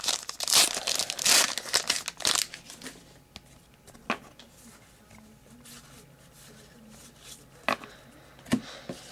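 A Topps Treasury basketball trading card pack is torn open, its foil wrapper crinkling loudly and close in quick bursts for about two seconds, followed by quieter scattered rustles and card handling taps.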